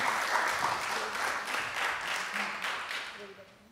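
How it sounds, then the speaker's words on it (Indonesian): An audience applauds in a parliamentary commission working meeting, a dense sustained wash of many hands clapping that fades toward the end, with a voice faintly heard underneath. "Kita kasih tepuk tangan."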